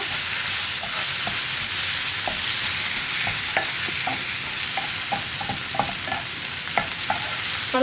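Tomatoes fry and sizzle in a pan for an egg roast as a spoon stirs them, a steady hiss with scattered small clinks and scrapes throughout, close and alone.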